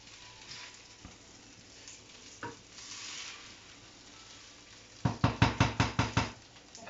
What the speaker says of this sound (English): So remember to keep giving it a stir,